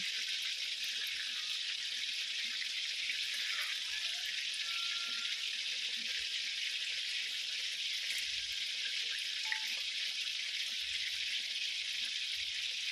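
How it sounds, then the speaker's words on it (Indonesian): Chicken pieces fry gently in oil over low heat, giving a soft, steady sizzle and crackle that runs evenly throughout, quiet and without speech. "Digoreng dengan api kecil."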